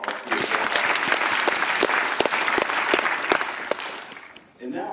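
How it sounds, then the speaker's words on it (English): Audience applause rolls through a room, dense clapping with distinct sharp claps popping out close by, thinning toward the end as a voice begins speaking. "give him a round of applause"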